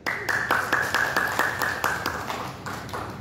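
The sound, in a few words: audience clapping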